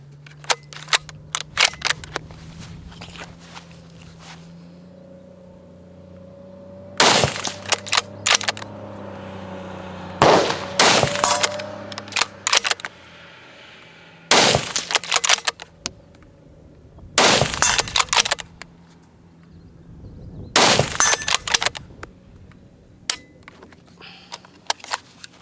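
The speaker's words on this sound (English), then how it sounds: "this is sort of a visual indicator that the rifle is cocked and ready to fire. And let's do that right now." Six sharp, loud rifle shots from a Steyr Scout .308 Jeff Cooper Limited Edition, fired one at a time with pauses of a few seconds between them, each followed by clicks and clatter of working the action.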